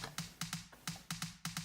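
A dry, dead-sounding snare hits several times in a syncopated pattern, each stroke short and boxy with little ring, quiet and alone.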